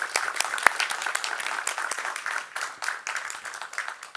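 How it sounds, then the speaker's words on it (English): Audience applause at a Stockholm +50 UN-related event welcoming Ambassador Jan Mårtensson, a steady burst of clapping from a crowd that carries on for several seconds without fading. "Big applause."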